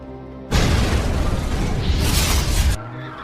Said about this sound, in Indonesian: Han mengalami tabrakan hingga mobilnya terguling dan meledak